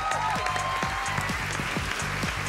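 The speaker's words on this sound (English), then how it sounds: "Let's give her a round of applause." Studio audience applause on a televised local music competition show, steady dense clapping filling the whole stretch at moderate loudness, with faint crowd murmur beneath.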